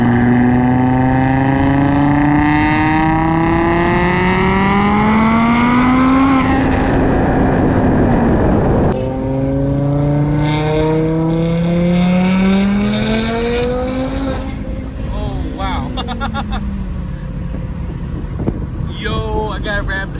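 An Audi RS3 fitted with an IMS 850 engine build accelerates hard at full power on a race circuit, its loud engine note climbing steadily through the gears with brief dips at the shifts, under wind noise.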